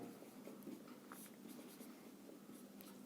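A pen scratches across paper in quiet, irregular strokes, faint and close, with no voices.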